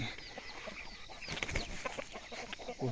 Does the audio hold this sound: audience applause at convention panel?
no